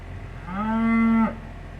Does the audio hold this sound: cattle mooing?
yes